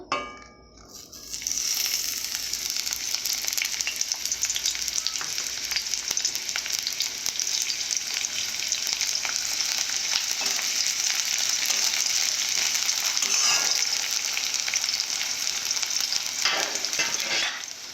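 Dried red chillies and onions frying in a wok of leftover fish-frying oil: a loud, continuous sizzle close by, with occasional metal clangs and scrapes from stirring.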